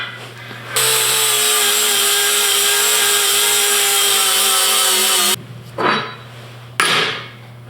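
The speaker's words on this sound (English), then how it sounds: "I'm going to smooth out a spot on my table, get rid of some rust" A power tool grinds rust off a steel welding table in a loud, steady, high-pitched whine that holds for several seconds, then cuts off and gives two shorter bursts that spin down.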